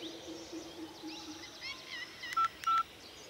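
Telephone keypad tones beep twice in quick succession, short and clear, near the end of a faint scene filled with soft chirping background sounds.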